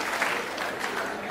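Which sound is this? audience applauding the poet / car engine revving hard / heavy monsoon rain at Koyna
audience applauding the poet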